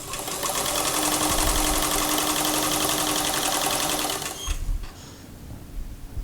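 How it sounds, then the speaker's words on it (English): A sewing machine stitches lace pieces together in a fast, steady mechanical whir for about four seconds, then stops with a few clicks and handling noises, close and with no talking. "sewing it together."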